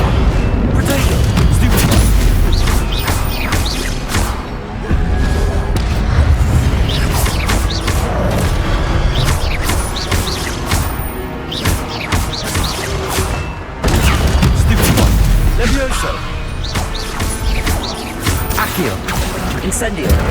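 Incendio fire spell cast repeatedly in Hogwarts Legacy: dense, loud booming blasts and crashing bursts packed one after another amid game music and effects, with a voice speaking throughout.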